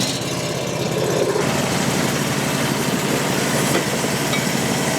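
A Frontier OS35 hydraulic sawmill cutting a large tulip poplar log, its engine droning loudly and steadily with a continuous buzzing saw noise and no pauses or voices.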